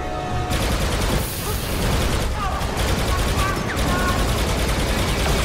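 Blaster fire in the Star Wars Battlefront 2 video game crackles in rapid bursts of shots over dense battle noise, with short gaps between volleys.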